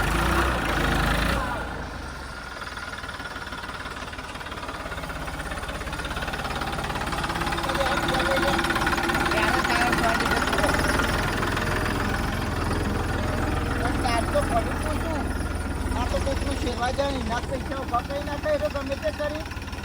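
A tractor engine rumbles and idles steadily nearby, a low, chugging drone that continues throughout while people talk over it.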